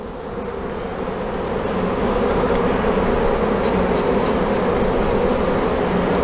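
Dense, steady swarm of honeybees drones loudly around a hive while loose comb is framed with rubber bands, a constant close buzz with no voices over it.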